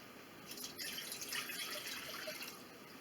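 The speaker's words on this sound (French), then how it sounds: "je vais commencer par mettre mon eau dans mon bol" Water trickling and splashing softly into a bowl while mixing baguette dough, a faint continuous pour lasting a few seconds.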